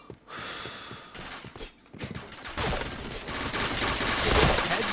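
Gunshots and headshot hits in the PointBlank shooter game, starting sparse and building into dense, loud, continuous firing toward the end.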